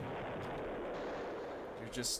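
Ship weapons fire in the space game Escape Velocity, a steady dense rumble of shots throughout with a brighter burst near the end, a voice faintly present underneath.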